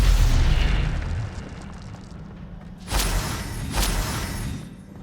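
Incendio and Stupefy spells from Hogwarts Legacy burst with two sharp bright blasts about a second apart, following a fading rumble from an earlier spell, loud and close.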